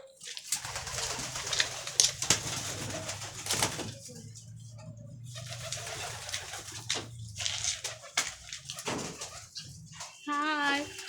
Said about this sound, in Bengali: মাশাল্লাহ অনেকগুলো কবুতর